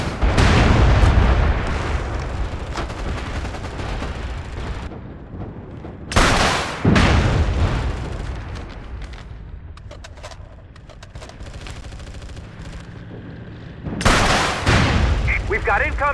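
Heavy artillery blasts boom in the MAG battle, with big explosions landing at intervals, a dense roar at the start, and distant gunfire rumbling between impacts, while radio-style voices speak.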